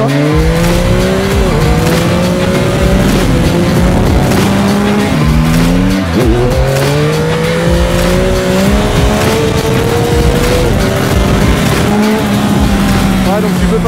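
A Yamaha MT-09 motorcycle with an automatic gearbox revs hard and accelerates with rising engine pitch through repeated gear shifts, loud and close throughout, with a voice talking over it.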